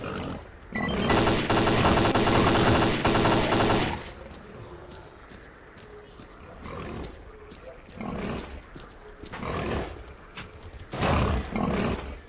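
Rapid automatic gunfire at monsters in S.T.A.L.K.E.R.: Clear Sky, a loud sustained burst of several seconds followed by quieter shots, growls and a final short burst, all close and harsh.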